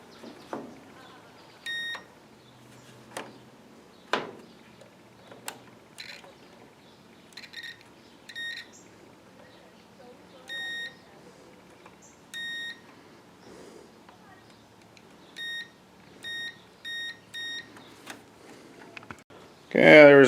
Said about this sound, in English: When there's continuity, it'll beep.